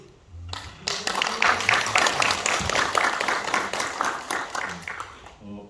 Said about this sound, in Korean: 우리 목사님 인사하실 때 환영 아멘으로 또 박수로 환영해 주시기 바랍니다.